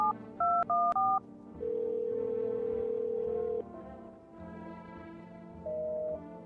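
A telephone number is dialed in a horror video game: a few quick touch-tone beeps, then a long steady tone, followed by quieter line tones and a final short beep.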